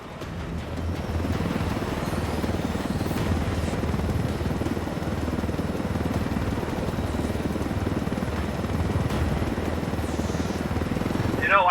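A helicopter in the video game Ghost Recon Wildlands drones steadily with a loud, continuous rotor and engine roar throughout, with nothing breaking through it.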